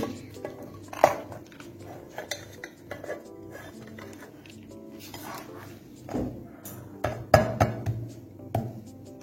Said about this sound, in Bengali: এখন একটা প্লেট দিয়ে দিচ্ছি।